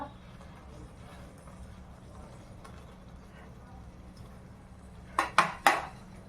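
Paneer butter masala with coriander being stirred in a pan, mostly a low kitchen hum before three quick, bright clinks of a spoon against the metal near the end.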